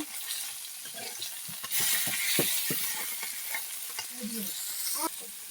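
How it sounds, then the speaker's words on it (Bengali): Small young rohu fish frying one by one in hot oil in a kadai, a soft crackling sizzle with bursts of spitting and light utensil taps, fairly quiet and close. "তেল দিয়ে দিয়েছি। মাছগুলো দিয়ে দেবো একটা একটা করে"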